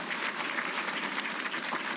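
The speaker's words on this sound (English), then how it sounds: "So let's give them a round of applause." Dense, even applause from the audience at a 2018 Hall of Fame ceremony, continuous clapping filling the room for a couple of seconds without speech.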